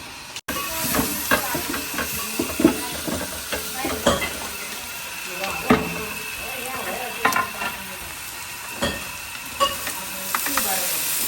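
Fried rice frying in a pan for a midday meal, with steady sizzle and hiss under repeated scraping and stirring clinks throughout, close and moderately loud.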